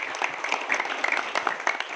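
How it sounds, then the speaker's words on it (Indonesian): An audience at a scout jamboree station event applauds with scattered, fairly quick claps, moderately close and continuous for a couple of seconds. "Boleh kasih tepuk tangan ya?"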